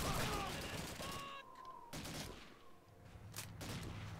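Heavy gunfire rings out in the Call of Duty 2 video game, a dense fusillade of rifle and machine-gun bursts that stays loud and continuous throughout, with sharp cracks standing out from the rapid barrage.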